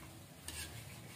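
Food fries in a pan with a faint, steady hiss, and a quick stirring scrape breaks in halfway through.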